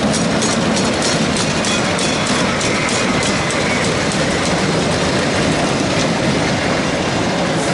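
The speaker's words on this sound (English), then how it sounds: "number 7 is also a secluded wooden roller coaster at the sister park" A wooden roller coaster at an amusement park sister park roars along its track, a loud continuous rumble with rapid clattering wheels and rushing wind, no voices.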